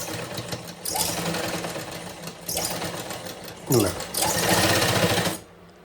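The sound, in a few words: sewing machine stitching a line on fabric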